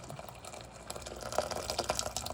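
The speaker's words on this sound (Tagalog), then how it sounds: "lagyan na natin ng mainit na tubig." Hot water poured into a pot of shrimp sinigang, a steady running, splashing stream that grows a little louder toward the end, close by with no talking.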